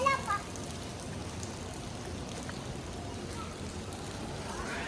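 Steady rain falls at a resort in Tagaytay, making a dense, even hiss that runs unbroken throughout, with a brief louder rustle at the start.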